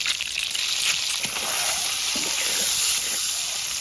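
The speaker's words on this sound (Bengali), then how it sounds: "ডিমটা ভাজা দেওয়া হয়ে গেছে" Hot oil sizzles steadily and loudly as eggs fry, a constant crackling hiss with occasional soft pops and no voices over it.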